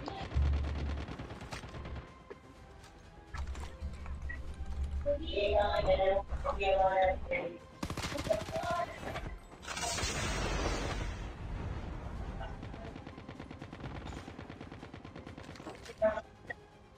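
Gunfire in a competitive online shooter video game, with repeated bursts of shots and loud cracks over a steady game soundscape, while a player talks over the action.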